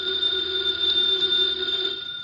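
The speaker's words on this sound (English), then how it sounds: "that phone bell means exciting adventure" Old-time radio drama telephone bell ringing steadily and fairly loud for about two seconds, a continuous electric trill that cuts off near the end, with no voices over it.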